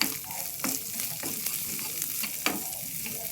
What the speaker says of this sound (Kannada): ಈಗ 3ರಿಂದ 4 ಮೆಣಸಿನ್ಕಾಯಿ ಕಟ್ ಮಾಡ್ಕೊಂಡಿರೋದು ಹಾಕ್ಕೊಂಡು ಅದು ಸ್ವಲ್ಪ ಹುರ್ಕೋಬೇಕು